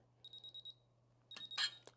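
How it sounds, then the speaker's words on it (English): A digital torque wrench gives a few short beeps in a quick series at set torque on rifle action screws, followed by a cluster of clicks and a sharper burst, close and clear over a low steady hum. "you can hear that audible beep once I get to my torque"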